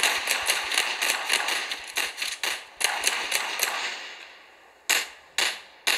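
Rapid bursts of gunfire in the video game Gangster Orleans, dense crackling volleys at first, then a pause and a few separate, sharp single shots near the end.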